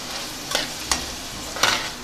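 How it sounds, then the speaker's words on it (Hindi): Potatoes, peas and carrots frying in a pan: a steady close sizzle punctuated by three distinct scraping stir strokes. "अब आलू फ्राई करने के लिए"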